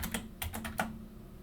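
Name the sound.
typing on a computer keyboard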